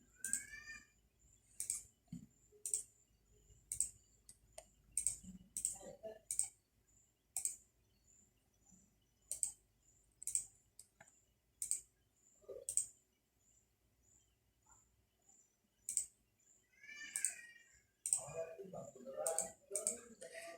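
A computer mouse clicks on an LED in an Arduino simulator, producing crisp, close single clicks spaced a second or two apart, with a little quiet speech near the end.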